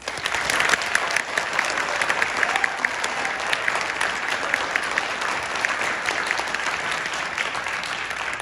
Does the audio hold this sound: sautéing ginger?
no